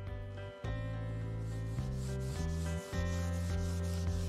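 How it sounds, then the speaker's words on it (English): Very fine sandpaper rubs across the surface of old furniture in steady back-and-forth strokes, close and continuous, with short pauses between passes. "We're going to use a very, very fine sandpaper and just take the surface off"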